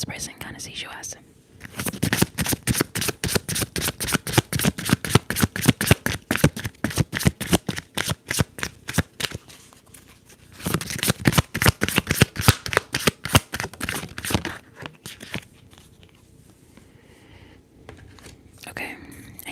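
Tarot cards shuffled in a quiet ASMR setting, a long run of rapid, crisp riffling flicks close to the microphone, pausing briefly near the middle and then resuming before fading into soft handling.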